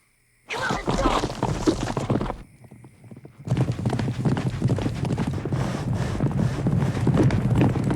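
Rapid hoofbeats of a galloping horse from the 1979 film The Black Stallion pound close by with rushing wind, briefly dropping away before the fast drumming returns even louder.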